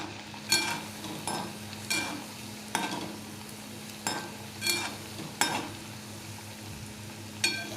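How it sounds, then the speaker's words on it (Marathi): Fasting kachori fry in hot oil under a soft, continuous sizzle, while a utensil regularly turns them over with sharp clinks and scrapes against the pan, about once per second, close by and without speech. "मस्त आलटवत पलटवत मस्त फ्राय करून घ्यायचे. कच्चे नाही राहू द्यायचे त्यांना."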